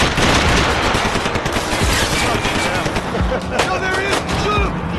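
Dense, loud gunfire in Max Payne 3, a continuous barrage of shots and bursts filling the whole stretch, with voices shouting over it.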